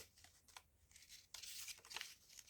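Paper collage prompt slips shuffled and handled by hand, giving dry crinkling and tearing-like rustles in bursts, quieter at first and then louder and denser near the end, with no talking.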